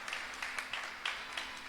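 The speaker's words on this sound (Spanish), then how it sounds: "Denle un fuerte amén y denle un gran aplauso al Rey de Gloria" A church congregation applauding after a sermon, a soft patter of scattered hand claps at moderate distance, fairly faint and with no voices over it.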